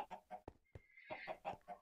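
Chickens clucking in Minecraft, a run of short, close, evenly paced clucks with a brief higher squawk in the middle, heard alone without talk.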